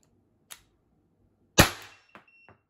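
A single loud, sharp crack from an HDR 50 pistol firing a shot, with a faint click just before and a couple of small metallic clicks trailing after.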